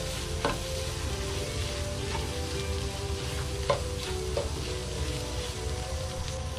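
Turmeric, coriander and chicken masala powder fry steadily in a hot pan for a Kerala-style duck curry, giving a continuous close sizzle with a few stirring scrapes and no talking.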